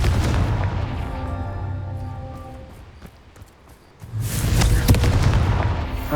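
A fiery Confringo spell blast in the Hogwarts Legacy video game: a deep booming explosion with rumbling low end, a brief lull, then a second heavy blast burst that rolls on to the end.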